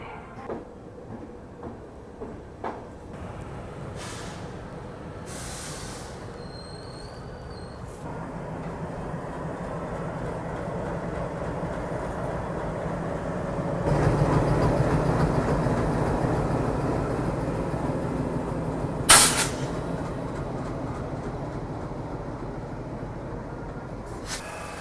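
The Suhaildev Express train pulls away in fog, a steady rumble of rolling wagons building up gradually, with occasional clanks and a brief sharp hiss near the end. No one speaks.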